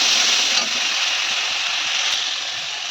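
Chana dal being stirred in a pot after water is poured in, a steady wet scraping and sizzling texture that runs continuously and fairly close, with no voices.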